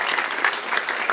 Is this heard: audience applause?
yes